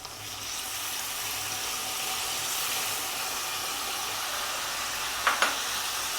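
Water poured onto sizzling onion paste in a pan for duck curry sets off a steady, even hiss of steam and frying. Two quick utensil clicks come near the end.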